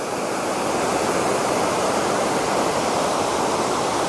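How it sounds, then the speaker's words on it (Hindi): Chandrari waterfall in Kaimur, Bihar pours into a pool below in a steady, loud, continuous roar of falling water that holds unchanged throughout, with no voices over it. "आप देख रहे हैं दुनिया के प्रसिद्ध झरनों में से एक चांदरी वाटरफॉल।"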